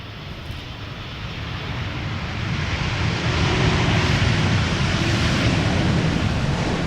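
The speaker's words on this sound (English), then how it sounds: "This is Air Canada flight 900 arriving from Montreal" An Air Canada Boeing 787-8 Dreamliner arriving from Montreal at Amsterdam Schiphol makes a broad jet rumble that grows gradually louder from distant to fairly near and holds steady at the end.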